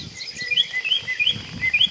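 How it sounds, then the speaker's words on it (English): A bird perched high in a tree chirps outdoors with repeated short, bright tweets that come every fraction of a second against soft background rumble, fairly close and clear. "The bird is welcoming us home."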